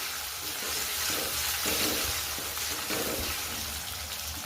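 Green chillies fry in a pan for sabudana khichdi, giving a steady, loud broadband sizzle throughout with slight swells and no talking.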